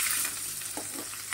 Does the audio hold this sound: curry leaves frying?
yes